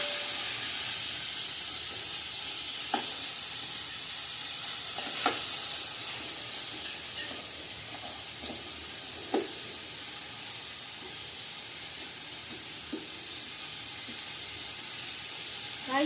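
Onions sautéing for a Sunday biryani give off a steady, broad sizzling hiss from start to finish, broken by a few faint, sparse taps of the stirring spoon, with no one talking.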